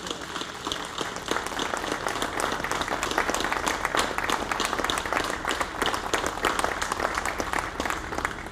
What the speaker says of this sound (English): I would ask that you join me in a warm NATO round of applause